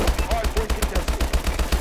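Rapid automatic gunfire rattles in a steady stream of sharp, loud shots during a multiplayer hardpoint match in Call of Duty: Advanced Warfare, with faint voices mixed beneath.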